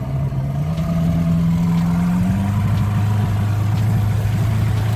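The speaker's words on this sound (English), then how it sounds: "we're gonna give it a little throttle here and take her for a spin" Yamaha outboard engine on a 2001 Cobia 194 center console boat being throttled up from idle, a steady close motor drone whose pitch rises and then settles into a lower, loaded hum as the boat gets moving.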